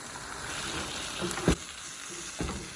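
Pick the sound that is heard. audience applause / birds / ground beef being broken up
ground beef being broken up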